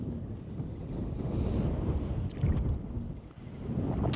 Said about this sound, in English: Wind blew me over.